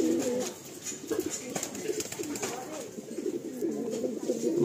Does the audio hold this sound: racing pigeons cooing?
yes